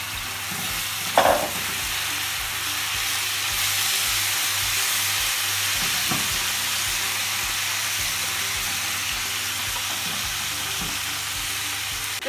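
Marinated pepper skirt steak strips, finely cut, frying for kimbap: a continuous close sizzle with occasional clinks and stirring scrapes, no voices.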